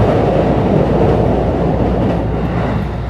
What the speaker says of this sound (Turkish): Metro gelirken bile bir şey ötüyor bak.